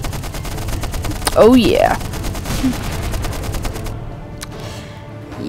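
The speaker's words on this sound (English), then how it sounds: "there comes a machine gunner tank." A machine gunner tank fires in the side-scrolling war game Stickman Trenches, a dense crackle of rapid shots and distant booms rolling beneath a brief spoken exclamation.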